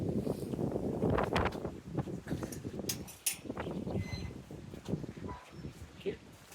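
Steady wind noise buffets the microphone throughout on a sunny day in the Yorkshire Dales, rumbling and gusting, with a brief lull midway.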